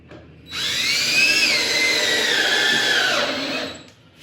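A power drill whirs up sharply, runs steadily for about three seconds with its pitch dipping under load as it drives a screw into skirting, then spins down.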